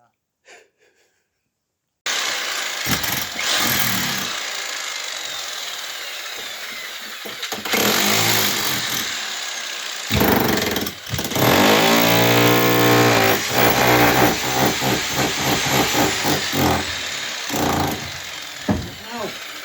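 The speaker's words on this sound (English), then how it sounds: "using the jackhammer" A jackhammer breaks up the floor of an old house under renovation in Bulgaria, loud and close, with repeated bursts of heavy rattling pounding that stop and start. People talk between the bursts.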